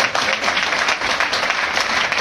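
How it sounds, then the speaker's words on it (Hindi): An audience bursts into brisk, dense clapping at a seminar gathering, loud and steady for a couple of seconds with no voices over it. "जोरदार तालियां बजाएं सर"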